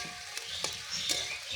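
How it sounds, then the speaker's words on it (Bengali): Eggs fry in a pan with turmeric, chilli and cumin while being stirred, giving a soft steady sizzle broken by a few quick scraping clicks of the spoon. "ডিম নিয়ে চললাম বাড়ি। একটু ভালো করে নেড়ে নিতে হবে"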